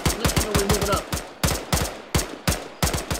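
Rapid bursts of automatic gunfire in a military video game, sharp repeated shots in quick volleys with brief pauses, loud and close.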